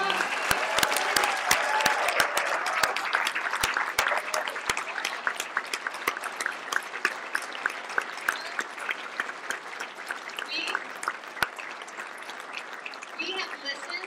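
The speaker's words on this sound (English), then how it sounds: "Could we give our candidates one more round of applause?" A crowd of delegates applauds political candidates at a party convention, a dense, sustained round of clapping lasting over ten seconds, gradually thinning toward the end.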